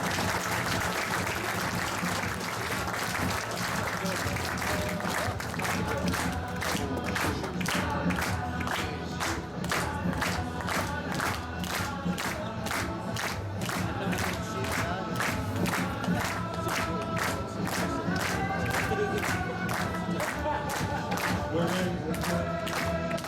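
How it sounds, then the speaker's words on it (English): Wedding guests at a best man speech clap and cheer in a sustained burst, steady rhythmic applause from a crowd filling the room at close range, with some shouting mixed in. "Let's clap her up, guys."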